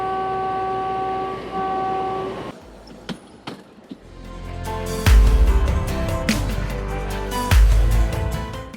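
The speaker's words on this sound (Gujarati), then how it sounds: "આપણે પહોંચી ગયા છે બિલીમોરાથી વઘઈ આપણી આ હેરિટેજ ટ્રેનમાં" A narrow gauge heritage train on the Bilimora to Waghai line. Its horn sounds loudly at the start and is followed by the heavy rumble and clatter of the train, with repeated loud thumps as it rolls along.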